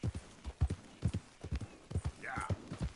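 Horse hooves clip-clop at a steady walking gait in Red Dead Redemption 2, close and rhythmic, with a short whinny partway through.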